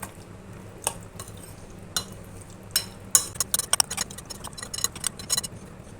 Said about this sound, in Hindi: अब इन तीनों चीज़ों को कलेजी में मिक्स करूँगी